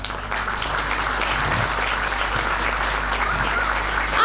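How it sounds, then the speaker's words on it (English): Steady applause from an audience at a grade 5 school presentation, continuous clapping that holds at an even level throughout and swells slightly at the end. "A huge round of applause to our dear friends."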